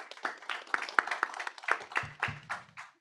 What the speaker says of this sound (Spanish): Un aplauso, gracias.